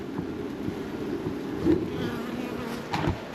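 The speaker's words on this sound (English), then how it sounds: "It's full of bees" Honey bees buzz in a full hive on an Irish farm near Dublin, a steady close hum with faint wind noise and no talk.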